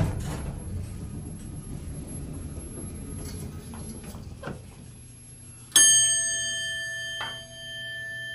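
A single bright bell ding from a Westinghouse hydraulic elevator rings out after a low rumbling hum, then its tone lingers and slowly fades.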